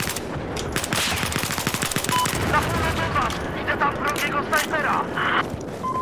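Rapid machine-gun bursts and scattered rifle shots crack across a Battlefield 4 battlefield, loud and continuous with booming explosions mixed in, near and far shots overlapping in a dense firefight.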